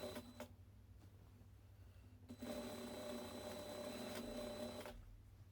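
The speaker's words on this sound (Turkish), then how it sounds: "Yavaş ve kontrollü bir şekilde gördüğünüz gibi elimle destekleyerek parmaklarımla dikiyorum." A domestic sewing machine stitching the hem of an interlock knit skirt, guided slowly by hand; a brief burst, a pause, then a steady close mechanical whir with a clear hum, no talking.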